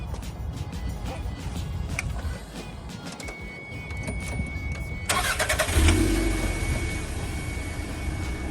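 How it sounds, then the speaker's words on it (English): A Toyota MR2 engine cranks and catches partway through, then settles into a steady idle, loud and close. "So let me start it up for you so you can hear it."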